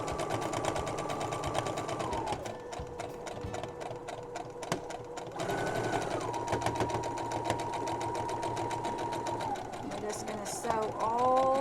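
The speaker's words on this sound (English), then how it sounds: "Sew all the way around. Be careful when you come up to those pins." A sewing machine stitches fabric for a soup bowl cozy, running in steady whirring bursts that slow and pause at corners before resuming, loud and close with a voice talking over it.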